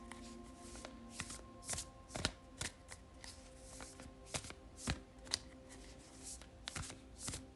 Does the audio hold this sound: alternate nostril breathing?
no